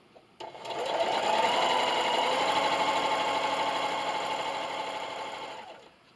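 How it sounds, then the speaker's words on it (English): A sewing machine runs steadily, stitching a zigzag seam around a burlap garden flag, one continuous mechanical whir lasting several seconds before stopping. "and continue to sew."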